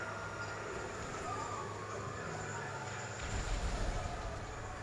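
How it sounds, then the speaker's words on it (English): Passing train in GTA Online, a steady low rumble that swells near the end as it draws close, heard under a busy game soundscape with no one talking. "Okay, there's a train coming."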